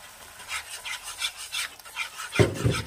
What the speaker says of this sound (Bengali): টক দই দিয়ে ভালো করে নাড়াতে হবে